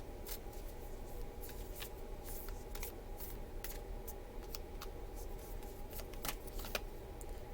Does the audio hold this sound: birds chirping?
no